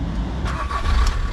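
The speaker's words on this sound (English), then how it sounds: "let's start the engine" A Volkswagen van engine turns over and catches during a charging test, a short mechanical burst with a low rumble, close and fairly loud.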